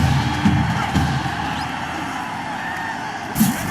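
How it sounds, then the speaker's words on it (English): Stadium crowd roaring in the Madden 21 American football video game after a big catch, a steady broad wash of cheering noise that swells briefly near the end, with no speech. "A big-time play that gets a roar from this crowd"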